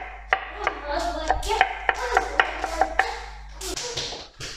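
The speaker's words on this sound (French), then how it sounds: "je coupe les boules de la courgette et je les mets avec mes petits légumes" A knife cuts scooped-out courgette balls on a board while they are prepared with small vegetables, giving a run of about ten sharp, close taps at an uneven, steady pace, with no talking.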